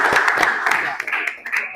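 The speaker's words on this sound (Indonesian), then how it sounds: "Tepuk tangan buat kita semua." Brief burst of clapping from a classroom audience during a religious quiz session, close and fairly loud with overlapping voices.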